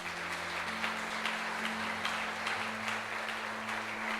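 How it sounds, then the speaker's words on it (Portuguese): Steady congregation applause at a Holy Communion church service, a dense wash of clapping from many hands with a low sustained tone running underneath, even in level throughout. "Quem compreendeu, aplaude Jesus."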